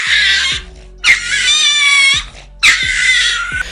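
A frightened dog gives high, wavering whimpers and squeals in three drawn-out bursts with short gaps, loud and close, tense and distressed in tone, no talking.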